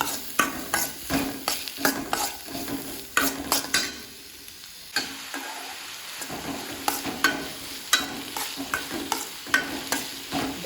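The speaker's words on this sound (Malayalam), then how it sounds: "ഞാനപ്പോൾ ഈ സവാളയൊന്ന് നല്ലപോലെ വഴറ്റിയെടുക്കട്ടെ" Chopped onions are sautéed in a pan for Kerala pappada ada, with a close sizzle and repeated scraping stirs that come in bursts and then pause briefly. No voices are heard.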